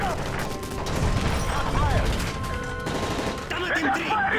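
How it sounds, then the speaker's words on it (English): Rapid gunfire from hijackers aboard a plane in the video game Call of Duty: Modern Warfare 3, bursts rattling on steadily throughout with frantic shouting voices layered over the shots. "That's gunfire! Hijackers are taking the plane!"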